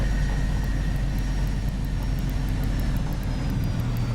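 Aircraft engines in Microsoft Flight Simulator 2024 drone steadily and loudly throughout, a dense low rumble with a faint high whine on top and no talk over it.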